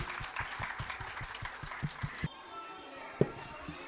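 Applause from an audience at a school annual day event for the parents, a brisk run of claps that thins out and ends partway through, leaving faint room noise with one sharp knock.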